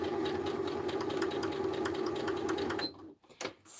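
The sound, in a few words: sewing machine stitching fabric scraps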